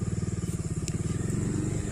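A motor vehicle's engine throbs steadily close by with a fast, regular pulsing beat, running throughout near a roadside parking spot at Cherrapunji, Meghalaya.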